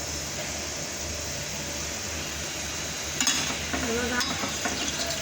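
Modak dumplings frying in a small amount of ghee give a steady, soft, broadband sizzle throughout, with a few sharper crackles and bubbling pops rising near the end.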